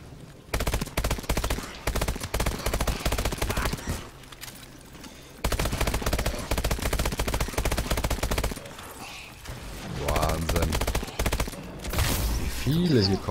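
Rapid automatic gunfire against zombies in Call of Duty Advanced Warfare Exo Zombies, with long loud bursts broken by short pauses, followed by mixed game effects and players talking.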